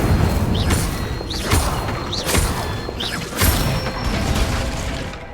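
Incendio fire spells cast in Hogwarts Legacy: four or five sharp whooshing bursts with crackling impacts, spaced roughly a second apart, loud and close, with no talk.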